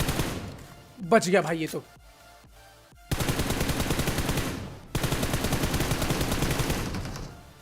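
Gunfire in BGMI (PUBG Mobile): two long sustained bursts of rapid automatic shots, loud and close, after a short burst of speech and a quiet pause.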